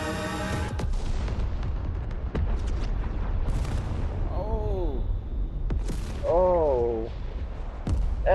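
Explosions from the volcano event destroying Tilted Towers in the Fortnite video game rumble as a dense, continuous low roar with scattered sharp blasts, while a couple of voices talk briefly over the din.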